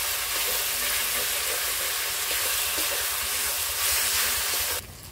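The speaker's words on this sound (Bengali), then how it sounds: "এবার মশলাটা ভালো করে কষিয়ে নেব।" Masala paste of dry chilli powder and a splash of water frying hard in a pan, a loud, steady sizzle lasting several seconds before dropping off sharply at the end.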